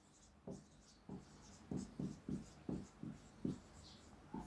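Chalk writing on a board during an organic chemistry class, about ten short scratchy strokes in an uneven rhythm, close and fairly faint in a quiet room.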